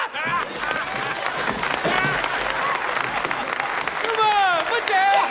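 A large crowd in a packed hall claps and cheers loudly for a retiring chairman, continuous applause with shouts and whistles layered on top.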